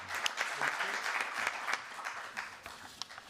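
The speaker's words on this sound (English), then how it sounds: "a round of applause to all the panelists" Applause for panelists at the end of a conference session, a modest roomful of hands clapping steadily and fairly faint, thinning slightly toward the end.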